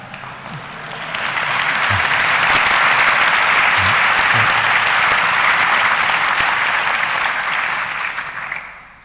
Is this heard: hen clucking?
no